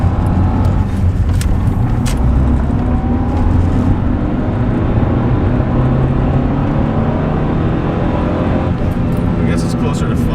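A Honda Civic with a VTEC engine revs hard in second gear from inside the car, a loud, continuous engine roar that rises and holds, while people talk over it.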